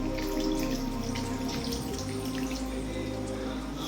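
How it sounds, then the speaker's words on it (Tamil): Water poured steadily into a cooking pot while making prawn gravy, a continuous splashing, trickling flow heard close up and fairly loud over a low background hum, with no talking. "நல்லா தண்ணி ஊற்றுறோம்."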